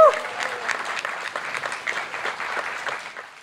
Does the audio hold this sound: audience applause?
yes